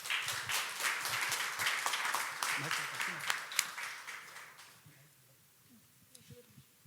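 Audience at a lecture clapping to welcome a speaker, a dense burst of applause that thins out and fades after about five seconds, followed by quiet room sound.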